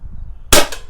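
A single sharp air rifle shot during benchrest shooting, one loud close crack after a quiet lead-in with low background rumble.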